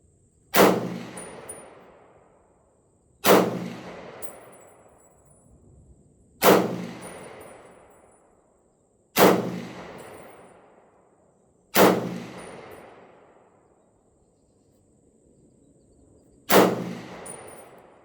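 M1 Garand rifle firing outdoors: six loud single shots at irregular intervals, each a sharp crack with a long ringing decay, the last followed by a metallic ping.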